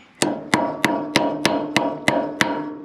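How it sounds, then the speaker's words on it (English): A hammer taps on a New Holland 256 rake ground drive shaft to seat its roller bearings. Eight sharp metallic strikes come at an even, quick rhythm, close and loud, with brief ringing after each, and no talking. "So we're just gonna tappy, tappy, tappy, tappy, tappy, tappy."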